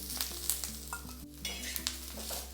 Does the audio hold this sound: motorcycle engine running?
no